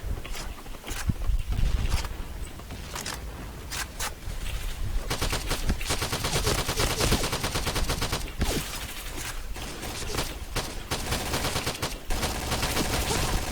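Rapid bursts of heavy gunfire from a powerful gun in the battle game PUBG, loud and close, with short pauses between sustained volleys and no talk.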